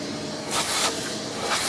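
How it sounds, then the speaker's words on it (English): A vacuum cleans out a Gaggia Platinum coffee grinder with a soft, airy hiss that rises briefly in two bursts, faint and close, with no voices. "Okay, I'm going to vacuum this."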